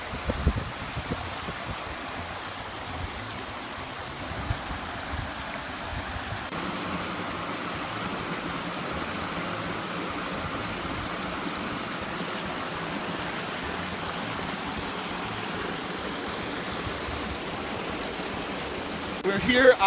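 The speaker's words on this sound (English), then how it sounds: "We've got the camera set up and we're rolling on the waterfall here." A waterfall pouring into a backyard pond outdoors at dusk, a steady broadband rushing roar at constant level throughout, with a few brief handling bumps near the start and end.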